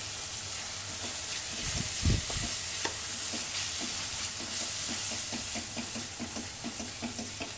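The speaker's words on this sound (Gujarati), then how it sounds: "થોડો મસાલો પણ શેકી લેવાનો, કે લોટ કાચો હતો એટલે મસાલો સરસ લોટ શેકાઈ જાય ચણાનો" Masala and gram flour roast in a pan for stuffed bitter gourd, with a steady sizzling hiss under repeated scraping strokes of a stirring spoon close by.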